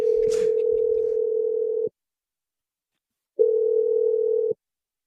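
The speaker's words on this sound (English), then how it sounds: "I'm dialing your number right now." A steady, loud telephone dial tone sounds for about two seconds, cuts to silence, then returns in one shorter burst.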